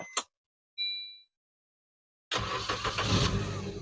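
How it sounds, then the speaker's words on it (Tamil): A used car in Tamil Nadu: two sharp clicks and a brief electronic beep, then silence before the engine cranks and catches. It settles into a loud, close, steady idle with no talking. "இன்ஜின் சவுண்ட் கேக்குதுங்களா, அவ்வளவு ப்ராப்பரா இருக்குங்க."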